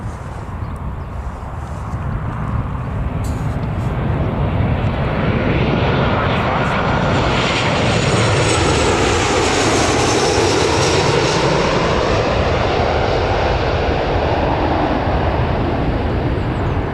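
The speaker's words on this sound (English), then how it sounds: "here's the Ryanair coming in" A Ryanair airliner coming in to land at Newcastle Airport roars loud and near, its engine noise building into a sustained, heavy rumble and whine with a sweeping pitch as it passes, with a voice speaking over it.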